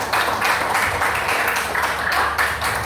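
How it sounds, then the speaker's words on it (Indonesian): Schoolchildren applauding their classmates in a classroom, a steady dense wash of clapping from many hands sustained throughout, loud and close with no pauses. "Tepuk tangan dulu untuk teman-teman kalian semua"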